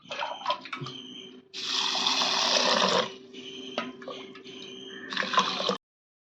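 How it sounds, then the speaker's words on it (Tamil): Water poured in bursts into a container of soaking urad dal and fenugreek, a splashing gush, a pause, then more pouring, close by with a faint steady hum underneath. "அதேமாதிரி உளுந்துலேயும் வெந்தயத்துலேயும் தண்ணி ஊற்றிக்கலாம்"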